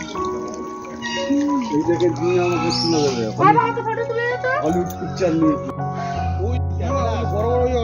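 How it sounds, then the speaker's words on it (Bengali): Swans at a bird park call loudly in repeated harsh, rising honks, close by and overlapping with people talking nearby. "প্রচুর ডাক দিচ্ছে রাজহাঁস।"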